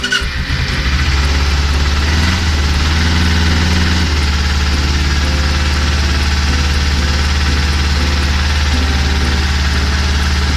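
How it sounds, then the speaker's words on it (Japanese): A Kawasaki Ninja 250R motorcycle engine idles steadily and loudly for the whole stretch, a constant low rumble with mechanical vibration and no voices. "切り取り戻して、エンジンかけてみましょうかね。"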